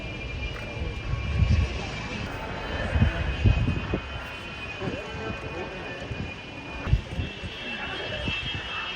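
A fast military jet roars past at the RIAT airshow at Fairford, a steady broad engine rush with uneven swells and crowd noise around it.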